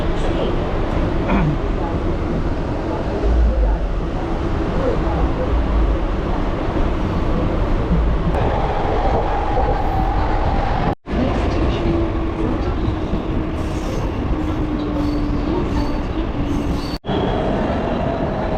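A Mumbai local train runs in the evening with a nearly empty ladies' compartment, a loud continuous rumble of wheels and carriages with faint squeals and rattles, heard from inside the coach.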